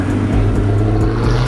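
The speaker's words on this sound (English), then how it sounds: "Mustang coming in right there." A Ford Mustang rolls into a car meet, its engine a loud, steady low rumble held close to the microphone throughout, with no talk over it.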